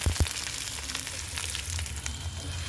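Onions and green chillies frying in hot oil, a steady close sizzle and crackle, with a couple of thumps at the start.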